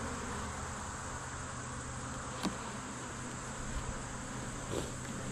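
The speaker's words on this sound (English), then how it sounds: "Well, these are angry bees." Angry bees from a Caucasian honeybee hive during an inspection; a faint, continuous buzzing hum with a few brief closer passes, no voices.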